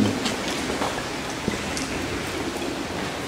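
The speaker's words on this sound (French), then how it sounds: "Il y a trop de bruit, il y a trop de parasites. Il y a le vent, la pluie." Steady rain patters and hisses continuously with wind, faint scattered drips and a low rumbling undertone; no voices.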